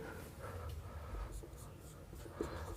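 Chalk or marker writing on a board during a history lesson, a faint continuous scratchy scraping with short strokes over a steady room hum, no voice heard.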